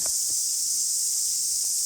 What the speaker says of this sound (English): It is deafening with the cicadas.